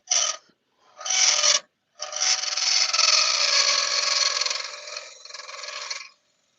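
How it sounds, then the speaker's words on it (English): A wood-turning tool scrapes the inside of a wooden bud vase flute with a pull cut, giving close, rasping bursts: two short strokes, then a longer sustained scrape that fades out. "Just refining the flute, or the inside of it, with a pull cut, which is almost a shear scrape"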